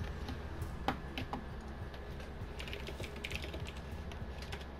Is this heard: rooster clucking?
no